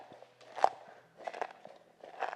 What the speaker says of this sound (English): if your terrazzo sounds a little bit like this when you crunch it